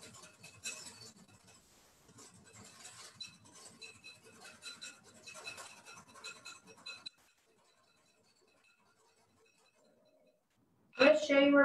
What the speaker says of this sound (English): I've only been whisking for maybe about a minute, and it's thick and creamy